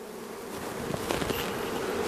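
Honeybees buzz in an opened hive, a dense steady hum that swells slightly, moderately close, with no voices.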